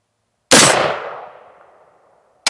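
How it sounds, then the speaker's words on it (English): A single rifle shot hits a steel target plate with a sharp crack and a ringing metallic clang that fades over about a second and a half, then a brief second ping comes right at the end. "Another dead center shot."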